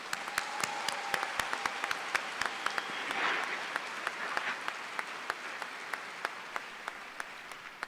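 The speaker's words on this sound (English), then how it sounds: "Let's have a round of applause for these SMT graduates." An audience applauds graduates at a College of Natural Resources spring graduation ceremony, steady mid-level clapping with sharp individual claps standing out across the whole stretch, swelling slightly midway and tapering a little toward the end.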